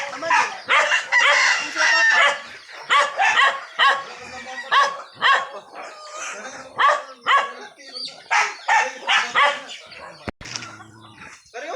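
A crowd of chickens clucks and squawks agitatedly as they are chased and caught, making a dense run of loud, close, rapid bursts with a brief thump near the end.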